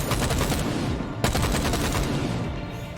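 Rapid, dense gunfire from the VR shooter Stormland rattles continuously in a loud close fusillade, with a sharp burst near the middle and no speech.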